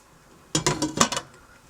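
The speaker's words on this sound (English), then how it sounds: "Give it a quick stir." A spoon scraping and clinking against a pot of simmering vegan pot pie filling, a quick burst of about six metallic knocks over roughly half a second, close and fairly loud with no talking.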